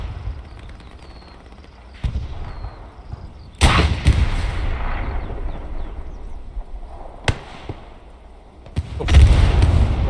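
Rocket fire and explosions aimed at tanks, including Russian medium tanks, in a WWII-style online battle game, with several sharp booming blasts at irregular intervals over a low rumbling battlefield background.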